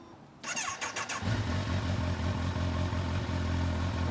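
A Kawasaki Ninja 1000SX sport-touring motorcycle engine, with 3,000 km on it, turns over with a few sputtering cranks, then catches and settles into a steady, smooth idle close by.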